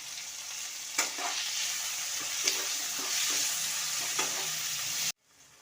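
Sautéed onions with added tomatoes fry in a pan for sambar, a steady close sizzle with a few spoon scrapes and knocks while stirring, no talking, then an abrupt cut to near silence at the end.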